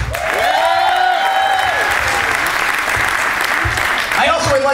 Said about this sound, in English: Please put your hands together for the grandparents of the bride, David and Janet Mucci.